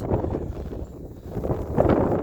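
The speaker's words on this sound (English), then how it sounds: "And it's very windy." Steady wind blowing across an outdoor microphone, with low rumbling gusts that swell and ease, rising stronger near the end.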